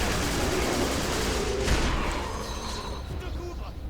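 Battlefield gunfire in the video game Resistance: Fall of Man, with dense rattling fusillade and a sharper sniper-like crack near the middle, loud and continuous, fading slightly toward the end.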